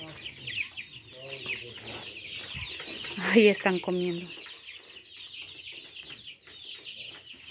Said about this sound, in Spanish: Ahí están los pollitos.